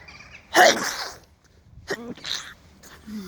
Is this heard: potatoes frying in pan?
no